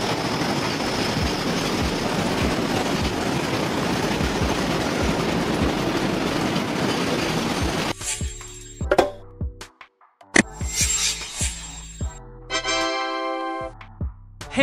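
An oil tanker freight train rolls past on the rails, a loud continuous rumble with rhythmic clickety-clack of wheels over track joints, giving way to a sparse series of metallic clanks and tones.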